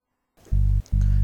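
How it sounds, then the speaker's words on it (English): Soloed bass guitar track from a Bollywood song, two deep, sustained low notes following a brief silence, loud and isolated with no other instruments. "This is the sound of the bass guitar."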